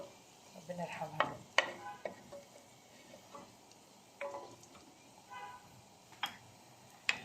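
Garlic frying in a pan as the base for okra with meat, giving a faint, low sizzle with scattered clicks and stirring scrapes of a utensil against the pan.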